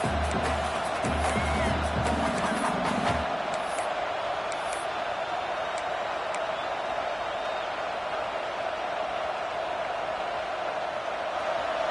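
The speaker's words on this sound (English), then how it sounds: "This crowd, full throat, splitting the eardrums" A large stadium crowd in the video game NCAA 25 roars in a steady, loud wash of cheering, with a brief low rumble early on before the noise settles into a sustained din.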